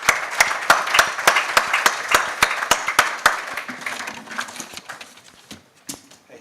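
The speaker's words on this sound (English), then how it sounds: "Un applaudissement nourri pour notre sponsor principal." An audience at an annual conference and AGM applauds its main sponsor with steady, rhythmic clapping that starts strong and gradually thins and fades out.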